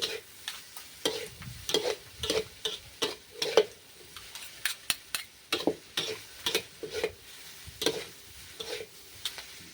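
Fried rice with egg and beef is stir-fried in a wok, with a rhythmic run of close spatula clanks and scrapes over a low sizzle.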